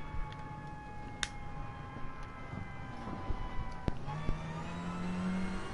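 A car drifts in the racing game Gran Turismo Sport, its engine droning and revving fairly quietly with tonal harmonics, a few sharp ticks, and a rising whine toward the end.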